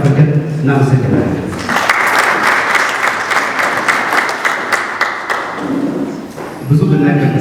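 Warm applause fills a room at a book launch for a veteran journalist's autobiography, a dense burst of clapping lasting several seconds before fading, with a voice speaking briefly before and after.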